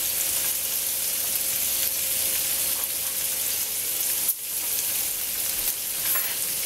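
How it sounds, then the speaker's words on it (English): Bacon strips fry in a pan for spaghetti carbonara, making a loud, continuous close-up sizzle with a brief utensil clack partway through and no talking. "Add the bacon strips to the pan. While it is cooking, break up the pieces and cook thoroughly"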